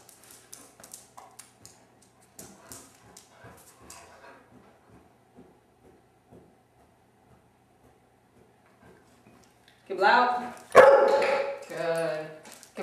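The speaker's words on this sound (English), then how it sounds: "He gets all worked up about the barking." A bulldog barks on command outdoors: faint scattered taps and small sounds at first, then a burst of several loud, close barks near the end.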